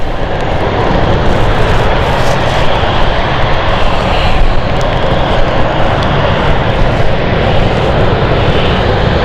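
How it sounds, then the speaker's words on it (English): An inbound flight from Frankfurt approaches London City Airport on a stormy weeknight, its loud, dense engine roar holding steady and close throughout, with no voices. "we now have the Frankfurt flight inbound"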